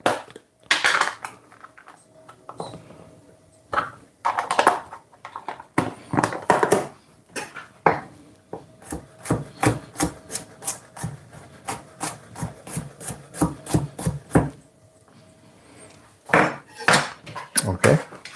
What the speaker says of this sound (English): We're gonna go in with some garlic now.